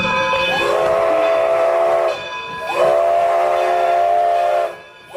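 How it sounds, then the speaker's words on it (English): Steam-powered railroad train blowing a loud, close whistle in two long chime-like blasts, each held for about two seconds with a brief pause between. "Steam powered railroad cars,"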